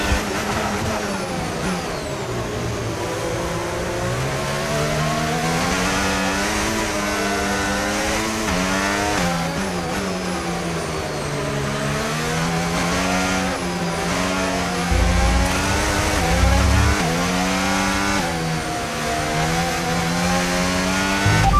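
Racing car accelerating in a video game, a continuous loud engine note with repeated rising pitch sweeps through gear changes, running alone without talk.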